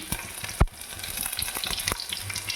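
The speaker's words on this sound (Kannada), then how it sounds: "ಇದೆಲ್ಲ ಸ್ವಲ್ಪ ಫ್ರೈ ಆಗೋ ಗಂಟ ಬಿಟ್ಟು" Chili, garlic and ginger sizzle steadily in hot oil in a pan, a continuous crackling fry with one sharp knock near the start and occasional small pops, close and moderately loud with no talking.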